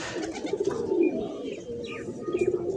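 A captured grey pigeon gives low, throaty coos close by, a soft continuous rumble with small chirpy notes above it, and no talk.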